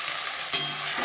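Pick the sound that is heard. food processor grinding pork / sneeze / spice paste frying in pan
spice paste frying in pan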